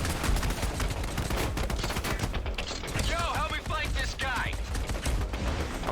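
Rapid gunfire in the video game Resident Evil 5, steady clattering bursts of shots running throughout with mechanical weapon clicks and a few whistling effects, with a voice talking over the shooting.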